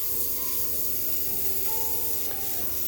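Airbrush spraying Tamiya Flat Yellow paint during a spray test, a soft continuous airy hiss running steadily throughout over a low background hum, close and moderate in level.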